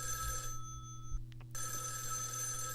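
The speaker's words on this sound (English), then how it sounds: "It's an unbelievable phone." A studio telephone rings with an electronic warble, a tone that cuts out briefly and then resumes, heard over a steady hum of background noise with no speech.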